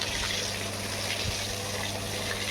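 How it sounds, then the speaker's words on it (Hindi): Water gushes steadily out while a Swaraj tractor's floor mat is being washed, a continuous close rushing hiss with no pauses and no voices. "साफ़ पानी निकल रहा है मैट के अंदर से"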